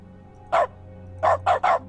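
Dog barking in the dog mode of the video game The Stanley Parable Ultra Deluxe: one bark, a pause, then three quick barks in a row, loud and close with no talk.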